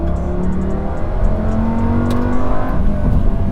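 A loud naturally aspirated V10 of a pre-LP Lamborghini Gallardo holds a steady, smooth high-pitched drone, slowly climbing in pitch over several seconds, close and continuous with no voices.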